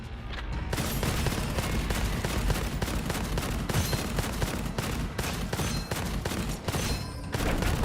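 Rapid, continuous gunfire fills a video game scene, dense repeated shots with heavy low booms running almost without pause from start to finish, loud and close throughout.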